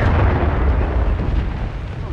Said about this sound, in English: see where that volley went off on the hill?